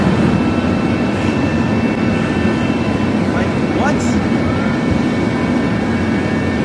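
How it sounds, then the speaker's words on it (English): Homemade propane-fuelled jet engine roaring in a garage, a loud continuous broadband rush with a steady low-mid drone, while a voice speaks briefly over it. "This guy just built a homemade jet engine in his garage, and it actually works."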